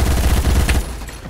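Rapid automatic bursts from a Colt SMG in the video game Phantom Forces, a fast, loud stream of closely spaced shots that stops abruptly and leaves a short tail.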